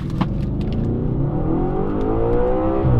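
An Audi RS4 V8 accelerates hard from a standstill at traffic lights, its engine note rising steadily and loudly through the revs, heard from inside the car with no talking.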